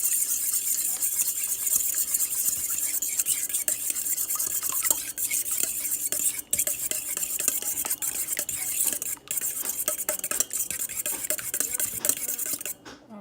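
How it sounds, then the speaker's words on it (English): Eggs are whisked quickly in a bowl for French toast, a continuous close rapid scraping and rubbing of the whisk against the bowl with occasional small clinks, without speech. "And then whisk the eggs real quick."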